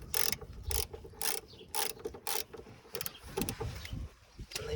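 Socket ratchet working loose the oil drain plug on a 1995 Chevy 1500 pickup, a series of bursts of sharp clicking ratchet strokes, close and fairly loud, with short pauses between them.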